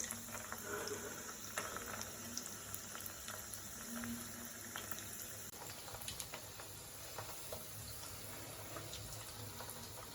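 Soybean cutlets with grated potato frying in a pan after being flipped, a faint steady sizzle and crackle of oil with scattered small pops, no voices.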